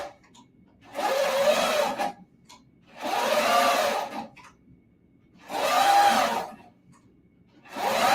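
A sewing machine basting thick quilt seams runs in four loud, close bursts of rapid stitching, each about a second long and separated by short quiet pauses.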